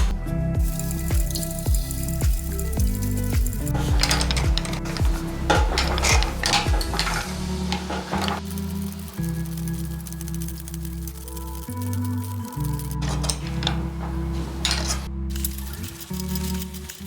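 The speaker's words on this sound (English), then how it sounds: "this is the shrinker. So you can see here, it actually clamps the panel down and then pulls it" A metal shrinker clamping and shrinking a steel panel, with repeated metallic clanks and ringing squeaks in a steady working rhythm, close and loud throughout.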